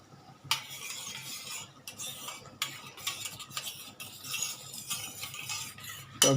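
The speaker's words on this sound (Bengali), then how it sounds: "টক দই জলটা আমি এটার মধ্যে দিয়ে দিচ্ছি, একটু নাড়তে থাকি একটু।" Spoon scraping and stirring a curd and water mixture in a metal pan for a rohu fish curry, repeated soft scraping strokes with occasional clinks, close and fairly quiet with no talking.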